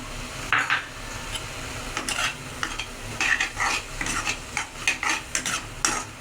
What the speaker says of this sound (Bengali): এবার আমি কষাবো মশলাগুলোকে গুঁড়ো